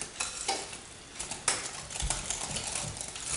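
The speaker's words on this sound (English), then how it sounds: "Let's stir this till it's well blended." A spoon stirs sugar and spices into pumpkin pie filling, making a soft, continuous scraping and swishing close by, with a few sharper clinks against the bowl and no talking.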